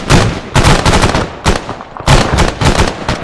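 Video game 25mm HEDP cannon opening fire in rapid heavy bursts, loud booming rounds in three close volleys separated by short pauses.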